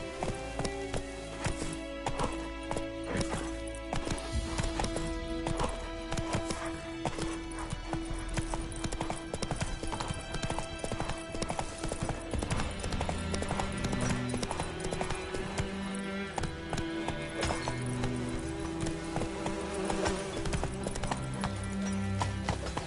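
A horse gallops in the video game Witcher 3 Wild Hunt, its hooves beating a fast steady clip-clop rhythm throughout, close and clear over game music and ambience.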